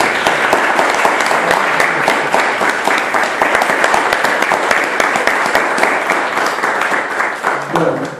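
A Rotary Club audience breaks into loud, continuous applause at an evening gathering, a dense close clatter of many hands that tapers slightly at the end as a voice begins.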